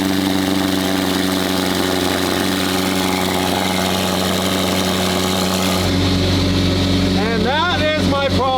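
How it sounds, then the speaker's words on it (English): A McLaren twin-turbo V8 idles with a deep, throbbing exhaust rumble, then revs sharply upward in a few quick bursts near the end. "And then we have that V8 twin turbo with a crazy exhaust."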